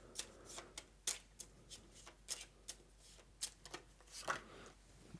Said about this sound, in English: So shuffle this, and we have to add one more interference